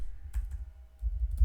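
A few quick keystrokes on a computer keyboard while entering text in an Excel spreadsheet, soft close taps in a quiet room with a low background hum.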